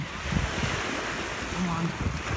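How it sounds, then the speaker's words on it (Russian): Rough sea waves wash in off Corfu in rainy, unsettled weather. The surf roars continuously with buffeting wind noise on the microphone, moderately loud and without speech. "Море такое немножко неспокойное, уже настоящий дождь."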